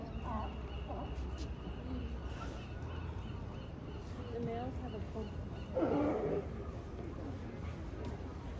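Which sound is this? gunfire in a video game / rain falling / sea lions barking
sea lions barking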